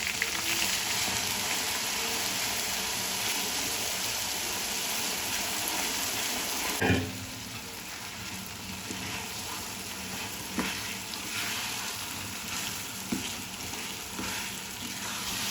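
Ground herbs fry in hot hair oil in a pan, giving a continuous close sizzle and crackle, with a brief clatter of stirring partway through and lighter sizzling afterward.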